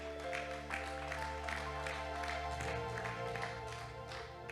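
A church congregation applauding in praise of the Lord, a continuous dense wash of clapping heard from a moderate distance, steady throughout with no clear pauses.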